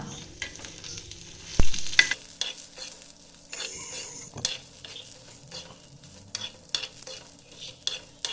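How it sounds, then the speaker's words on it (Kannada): Coriander seeds, cumin and black pepper fry in a pan with a soft crackling sizzle, broken by repeated scraping and clinking stirs of a spoon against the metal, close and fairly busy throughout. "ಎರಡು ಟೇಬಲ್ ಸ್ಪೂನ್ ಧನಿಯಾ ಒನ್ ಟೇಬಲ್ ಸ್ಪೂನ್ ಜೀರಿಗೆ ಹಾಗೂ ಒನ್ ಟೇಬಲ್ ಸ್ಪೂನ್ ಕಾಳು ಮೆಣಸನ್ನು ಹಾಕಿ ಫ್ರೈ ಮಾಡೋಣ"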